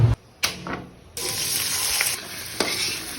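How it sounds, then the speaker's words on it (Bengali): Potatoes fry in a pan with a loud, steady hiss and crackle that cuts in after a brief clatter and a short quieter gap, with occasional sharper pops, close and continuous. "তো আমরা প্রথমে আলুটা ভেজে নিব"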